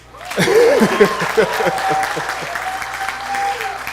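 Audience applause at a TEDx talk at Nile University of Nigeria, clapping swelling after a moment and holding steady, with a voice speaking and some chuckles over the top.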